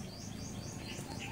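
A tame bird calls with chirps and coo-like notes outdoors at a crab-hunting spot in the Philippines, set against a busy, noisy background with no one speaking.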